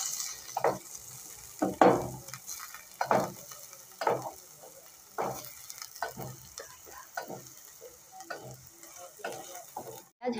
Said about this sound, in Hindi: प्याज को भी हल्का गोल्डन ब्राउन होने तक इसको भी अच्छे से भूनेंगे लगातार चलाते हुए